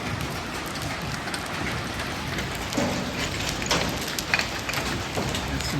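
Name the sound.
hail falling on a truck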